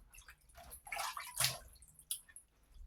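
Running water rinsing a pork steak for frying, splashing and gurgling in uneven surges for about three seconds, with a louder burst near the middle and no talk.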